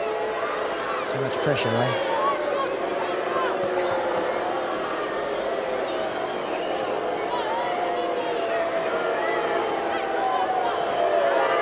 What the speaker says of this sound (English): The big Canterbury crowd willing this away, and they've got their wishes